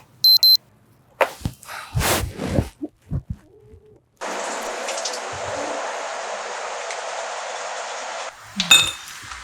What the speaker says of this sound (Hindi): दीदी यार ये अलार्म तो बंद कर दिया करो ना